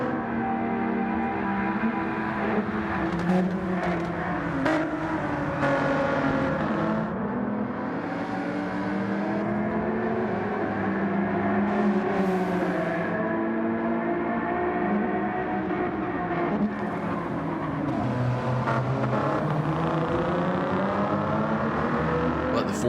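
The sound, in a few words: race cars at Daytona in a racing video game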